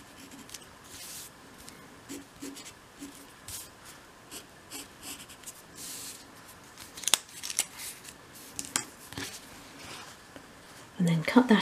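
Scissors snip through paper while cutting out a miniature dolls house piece, faint clipped cuts coming in short irregular bursts, with louder crisp snips toward the end.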